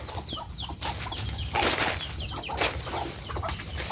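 Farm chickens cluck in short, scattered calls, with a couple of brief bursts of wing flapping close by, all fairly faint in an outdoor setting.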